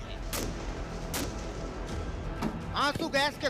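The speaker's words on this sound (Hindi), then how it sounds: "गोलियां चल रही हैं" Several sharp, sudden cracks of gunfire ring out at uneven intervals amid a noisy street during a violent youth protest in Nepal, with a shout or raised voice near the end.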